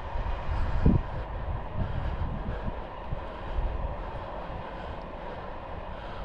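A train carrying vans and cars rumbles past, a steady broadband roar with low thumps and clatter, heard from nearby in Spain.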